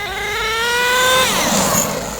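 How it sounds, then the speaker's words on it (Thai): A small car engine with two gears revs steadily upward in a rising, buzzing whine, then the throttle is released and the pitch falls away into a rougher, fading drone. "พอสุดเสียงแล้ว เราก็ต้องยกคันเร่งนะครับ อย่าไปกดแช่ลากยาวๆนะครับ"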